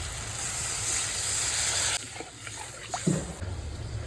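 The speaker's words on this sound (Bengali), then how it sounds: "আর এবার জল দিয়ে দিচ্ছি।" Water poured into a pan of hot oil with fried green chilli spice paste while cooking a Ganges puti and bata fish curry, a loud steady hissing sizzle that drops away abruptly after about two seconds, followed by quieter bubbling and light clatter.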